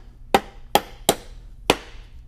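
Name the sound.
hammer tapping wooden box joint drawer together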